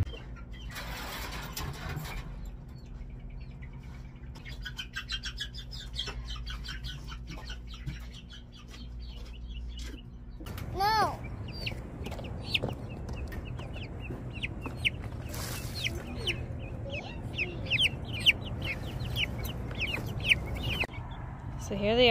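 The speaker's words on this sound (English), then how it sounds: "So here they are. They're inside the chicken run." Chickens cluck and squawk inside a chicken run, a steady chorus of close, busy fowl calls with a rooster-like cry; a low engine-like hum fills the first half before the birds grow louder.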